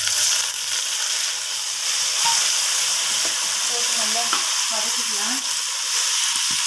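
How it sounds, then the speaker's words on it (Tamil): Sliced onions and curry leaves sauté in a hot pan of oil for a Tamil-style mutton curry, giving a steady, close sizzling hiss with occasional stirring scrapes, and no talking. "வெங்காயம் இந்த மாதிரி வதங்கணுங்க."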